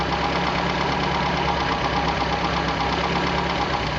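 An MG engine fitted with HIF carburetors idles steadily during carburetor tuning, a close, even mechanical churn with a faint knocking texture and no voices.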